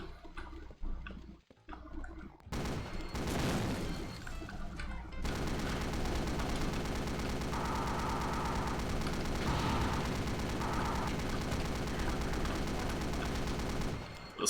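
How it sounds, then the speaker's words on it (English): Assault rifle fire in a modded Doom 2 shooter: a dense, sustained burst of rapid shots that runs loud and steady for most of the stretch after a few sharper reports at the start. "Fun for the assault rifle too"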